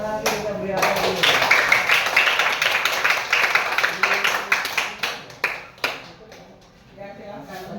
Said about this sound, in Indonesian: Terima kasih, kita beri aplaus dulu.